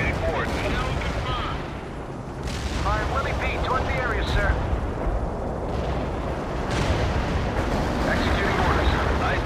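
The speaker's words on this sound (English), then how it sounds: "Napalm payload dropped at designated coordinates." Napalm strike in the real-time strategy game World in Conflict: a sustained rolling roar of explosions and fire with booming, crackling bursts throughout, heavy and continuous under radio-style voice chatter.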